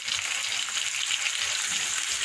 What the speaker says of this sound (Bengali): আলু পেঁয়াজটা ভাজা ভাজা হয়ে গেছে, এবার এই যে টমেটোটা দিয়ে দেবো আগে